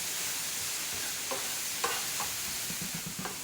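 Onion, ginger and carrot fry in a pan for chicken fried rice, giving a steady close sizzle with occasional stirring scrapes and clacks throughout.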